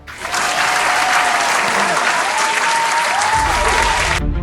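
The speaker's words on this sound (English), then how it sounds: "Let us use round of applause for our boss and ma'am." Staff at a company tenth-anniversary event give their boss a round of applause, a loud, even burst of many clapping hands that swells in quickly and cuts off abruptly at the end.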